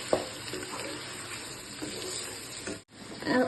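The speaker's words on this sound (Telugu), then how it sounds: "అల్లం వెల్లుల్లి పేస్ట్ ఇది పచ్చివాసన పోయేంత వరకు ఫ్రై చేద్దాం" Ginger garlic paste fries in hot oil, giving a steady, soft sizzle with faint crackles and stirring noises, fairly quiet and close.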